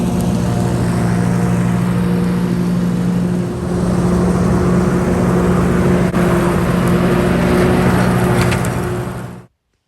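An Ariens Ikon XD 52 zero-turn mower engine drones steadily up close at a constant pitch, with a brief dip in load partway through before cutting off abruptly at the end.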